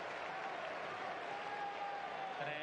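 A tennis crowd at a match in Rome applauds steadily, a dense even wash of clapping held at a moderate level throughout.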